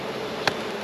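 Honey bees around a newly placed hive in New Zealand, a soft continuous buzzing with one brief louder pass of a bee flying close by.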